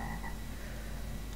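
A frog croaks in the video game Star Stable after a player is turned into a frog, a low steady throaty rasp filling the short moment at even loudness, alone with no talk.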